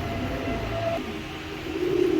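A pair of fancy pigeons coos softly and continuously at close range, a low murmuring rolling call that swells louder toward the end.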